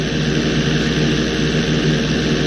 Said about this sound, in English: I want you to try to hold a knife edge with your plane